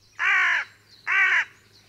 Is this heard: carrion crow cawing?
yes